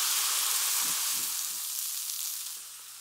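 Vegetables frying and caramelizing in a pan for turkey gravy give a steady, loud sizzle with a few soft stirring scrapes partway through, with no voices.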